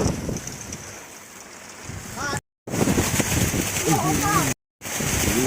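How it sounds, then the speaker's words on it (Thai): Strong wind and waves buffet a longtail boat at sea in a storm, a steady roar of wind on the microphone and water, with loud talking and shouting over it, broken by two brief dropouts. "ตอนนี้คลื่นลมกำลังมาแรง"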